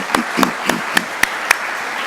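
A congregation at a worship service gives a small round of applause, a handful of distinct, evenly spaced claps standing out over a quiet murmur in the room.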